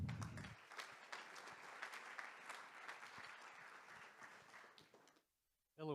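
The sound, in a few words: applause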